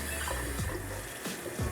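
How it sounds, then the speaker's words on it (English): Water runs from a tap into a plastic basin, a steady close splashing stream with no talk over it. "I'm going to turn on the water."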